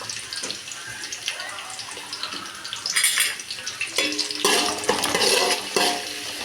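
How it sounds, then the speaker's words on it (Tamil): Small onions sautéed in a pan for fish curry, stirred with loud close scraping and sizzling bursts that grow stronger in the latter half, spoon knocks scattered throughout. "வெங்காயத்தை நல்லா வணக்கிக்கலாம்"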